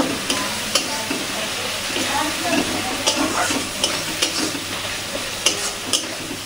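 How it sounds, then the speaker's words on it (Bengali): Potatoes are sautéed with spices in oil for ghugni cooked with goat fat, giving a steady, close sizzle with repeated scraping stirs of a spoon against the pan and no voices. "আলুগুলো দিয়ে ভালো করে কষিয়ে নিই।"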